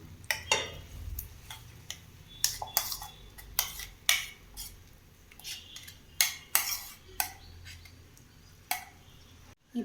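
A ladle or spoon stirs ground turkey berry paste in a metal pan, giving sharp, irregular clinks and scrapes every second or so, close and clear with no talk.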